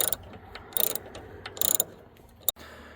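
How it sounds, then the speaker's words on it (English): A ratchet turns Torx T30 screws out of a Ford Focus headlight, with a few short bursts of quick clicking separated by brief pauses and a sharp knock near the end, close and fairly loud. "So you want to start by removing these two screws."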